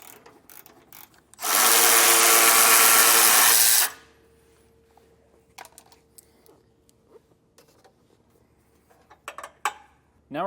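A power tool spins off bolts under a car during a trailer hitch installation, one loud continuous burst of whirring lasting a couple of seconds, followed by quiet clicks and handling noises.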